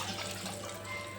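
Water running into a pressure cooker of dal, a faint, brief, steady trickle and splash at a low level.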